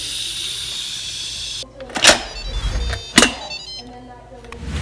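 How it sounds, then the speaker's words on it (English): An Instant Pot cooking Kerala matta rice vents its steam pressure: a steady loud hiss cuts off abruptly, followed by two sharp clicking bursts as the valve is worked, with fainter residual hissing between them. "let's slowly release the pressure"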